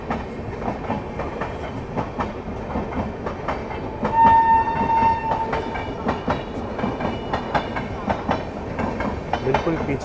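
Suhaildev Express rolls out of a station while another express overtakes alongside, with steady rumbling wheels, rhythmic clickety-clack and a sustained horn tone midway, heard from inside the train.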